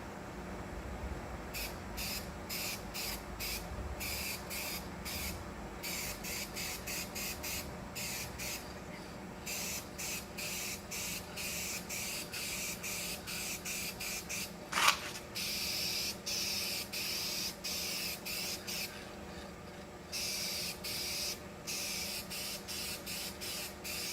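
Spray gun applying a second coat of paint to a fiberglass repair on a shuttle bus being converted to an RV. A loud, steady hiss comes in repeated bursts with brief pauses, close by and with no voices.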